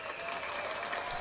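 Short burst of applause opening a talk show about music and film, a brief steady patter of clapping with no voices over it.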